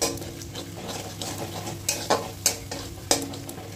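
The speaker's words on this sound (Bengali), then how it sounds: "এই যে নারকেল বাটা 2 চামচ মতো নারকেল বাটা দেব, দিয়ে এটাকে কষাবো।" Coconut paste and turmeric sautéed in a pan for a kakrol dish: a constant close sizzle with repeated sharp scrapes and taps of a spatula stirring against the pan, no voices.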